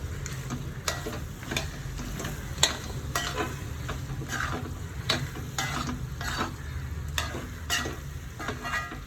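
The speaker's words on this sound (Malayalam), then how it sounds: "ഇത് നന്നായിട്ട് ഇളക്കി യോജിപ്പിക്കാം" Beef fry with crushed coconut is stirred in a hot pan: a steady low sizzle with rhythmic scraping strokes of a spoon, close and even, with no speech.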